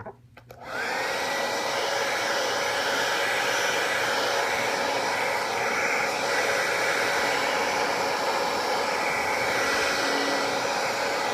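A heat gun blows steadily on a vinyl decal being applied by the wet method, a loud continuous airy roar starting after a brief quiet moment and holding nearly constant throughout.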